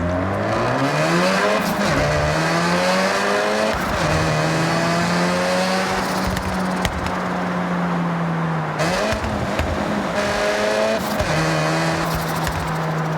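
Car fitted with a race exhaust in Forza Horizon 6, engine revving up through repeated gear shifts with rising and dropping tones, loud and continuous, some tire squeal, no talk.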